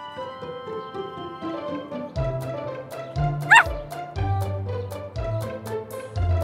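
A cartoon puppy barks and yips in quick, bouncy bursts over light background music, several short close calls with one high whimpering squeak in the middle, and no talking.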